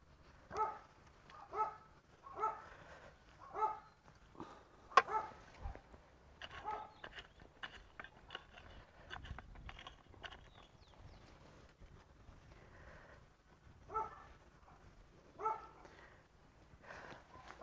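Several dogs barking outdoors in a vegetable garden, in repeated bursts of a few barks each, fairly close, with quieter rustling between the bursts.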